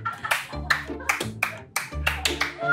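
Hands clap in a short, uneven run of sharp claps, several close together, while voices talk and exclaim over them in a casual indoor gathering.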